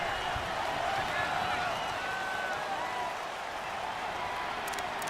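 Steady stadium crowd roar from the Madden NFL 19 video game during a Jets game, a continuous broadband wash of cheering and noise that holds at an even level for the whole stretch with no clear voices on top.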